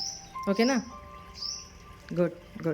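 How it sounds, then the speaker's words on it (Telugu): Sparrows chirp in short bursts and thin high calls, fairly close, mixed in with someone talking in between. "చక్కగా పిచ్చుకలు చూడు ఎలా అరుస్తున్నాయో"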